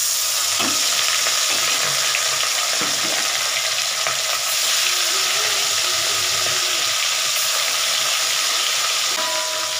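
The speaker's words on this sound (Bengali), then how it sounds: "মাছগুলো একটু ভেজে নিচ্ছি" Pieces of katla fish, marinated in salt, turmeric and Kashmiri chili, fry in hot oil with a loud, constant sizzle and occasional light clinks of a utensil. No one talks.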